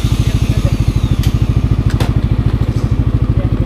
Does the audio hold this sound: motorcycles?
yes